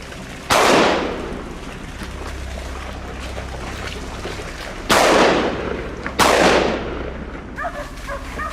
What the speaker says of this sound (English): Startled by the gunshot, the boar bolted, crashing through the underbrush trying to escape.